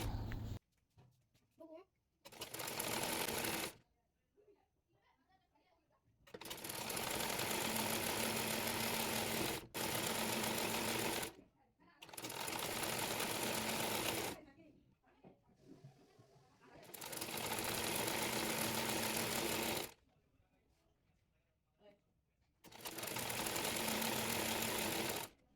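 A sewing machine stitches two pieces of dress fabric for a round kameez, running in five long loud bursts with short quiet pauses between them, and faint sounds fill the gaps.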